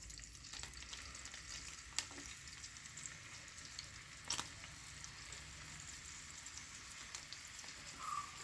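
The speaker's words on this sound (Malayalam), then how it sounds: "ഇനി ഇതിലേക്ക് ചിക്കൻ ഓരോന്നായിട്ട് ഇട്ട് കൊടുക്കാം." Chicken pieces sizzle and fry in sunflower oil and butter, a steady crackling hiss close by with a few sharp pops and clatters, no voices.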